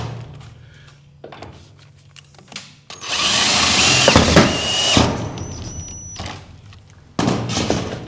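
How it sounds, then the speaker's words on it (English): A power drill drives long self-drilling metal screws through timber into steel, one loud sustained whirring burst lasting a couple of seconds, with workshop clatter and knocks before and after. "I'm going to use some of these long self-drilling metal screws, and I'm just going to go through the timber and put it into this steel here."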